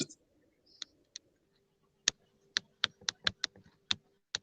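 Computer keyboard keys clicking in a quiet room, about a dozen sharp separate taps in an uneven rhythm, close and fairly soft, with no talk over them.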